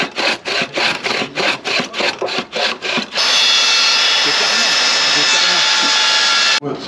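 Wood is cut by hand with a saw in a workshop, about ten loud, even back-and-forth rasping strokes, followed by a sustained loud hissing noise that stops abruptly.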